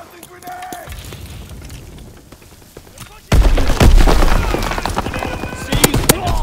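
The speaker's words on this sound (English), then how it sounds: "Tossing grenades!" Grenade blasts in the World War II shooter Call of Duty: WWII, a sudden loud boom followed by sustained heavy explosive rumble and gunfire-like crackle over a busy battle background.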